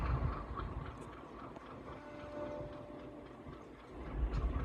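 An oil container freight train on the railway at Kaluwal station, a low distant rumble with faint rail clatter and a brief squeal, steady and fairly quiet.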